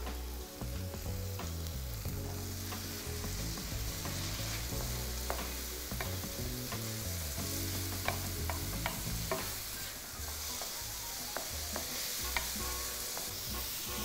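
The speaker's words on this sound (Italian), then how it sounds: "Aggiungo i piselli" Peas tossed into a hot pan with cooked ham, frying with a steady, fairly soft sizzle and occasional stirring scrapes and clicks throughout, no talking.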